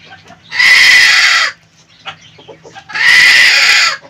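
Chickens on a rooftop terrace let out two loud, close bursts of squawking clucks, separated by a short gap filled with softer scattered clucking.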